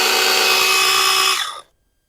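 A cheap 21-volt cordless chainsaw whines loudly and steadily at full speed for about a second and a half, then winds down abruptly into silence, with no talking.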